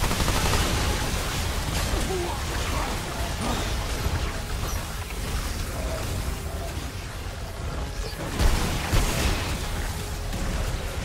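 Gunfire from the video game Remnant 2 makes a dense, continuous barrage of shots and blasts that stays loud throughout, with a couple of heavier impacts near the end.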